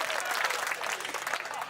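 Audience at a Hindi kavi sammelan poetry recital applauding in honour of mothers: dense, steady clapping from a crowd, moderately loud and unbroken throughout, with no voices on top.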